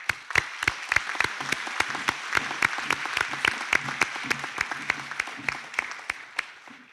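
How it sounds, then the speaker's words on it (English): Applause for graduates at a 2021 graduation ceremony, sharp claps in a fairly regular beat that thin out toward the end, over a faint low background murmur. "Please give graduates a round of applause."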